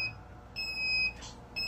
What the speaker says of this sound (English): If you hear the beep, you can go ahead and begin.